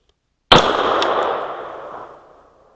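A single sharp rifle shot firing a Lake City M193 round cracks loudly and close, then a broad echo rings out and fades over about two seconds.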